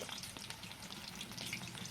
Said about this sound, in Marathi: फुल गॅसवरच आपल्याला हे मिरची भजी फ्राय करायची आहेत